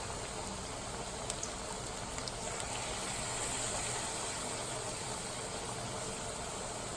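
Salt fish fritters frying in hot oil, a steady, dense bubbling sizzle that stays even and close throughout without any voices.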